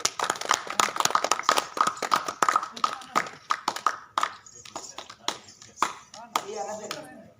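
Small group applauding a senior elder at an informal fan meetup, a burst of quick, dense clapping that thins into scattered claps, with voices talking over and after it.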